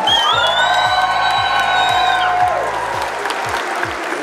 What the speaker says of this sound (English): One more time, big round of applause